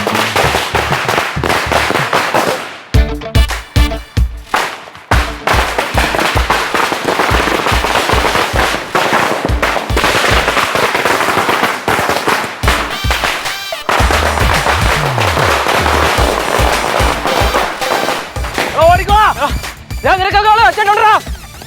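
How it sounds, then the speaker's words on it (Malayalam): Firecrackers burst in loud sharp cracks, first in a rapid crackling stretch and then in scattered single bangs. People talk and shout between and over the explosions. "രണ്ട് പടക്കം പൊട്ടിച്ചപ്പോഴത്തേക്ക് ഓടിക്കളഞ്ഞു"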